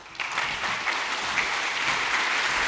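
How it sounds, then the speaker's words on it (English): A conference audience claps loudly and continuously as a programming speaker is welcomed on stage, a dense, even wash of applause throughout with no voices. "please welcome on stage with a huge applause from Bristol, Kevlin Henney"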